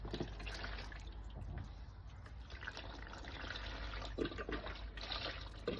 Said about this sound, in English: get myself some pineapple juice